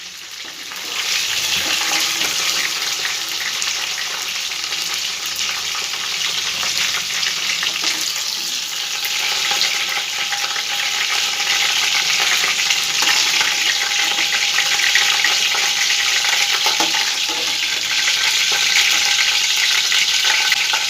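Onions fry in hot oil in a pan, giving a loud continuous sizzle with occasional stirring scrapes running steadily throughout, no voices.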